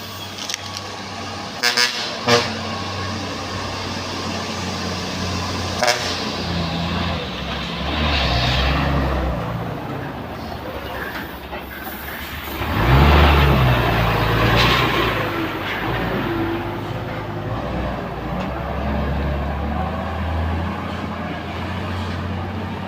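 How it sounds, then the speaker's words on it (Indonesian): Trailer trucks roll through a tight road bend in the Kedabuhan area. Engines rumble as they pass, with a few short horn toots early on and a loud, close surge about midway. "ini dia trailer yang akan menuju Sublu Salam Aceh"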